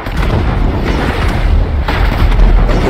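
Bazooka rockets firing and exploding in GTA 5, a dense run of loud booming blasts rolling one into the next with heavy low rumble throughout, no voices.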